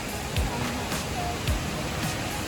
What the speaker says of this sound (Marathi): तिथे धबधबे वगैरे सुरू झाले आहेत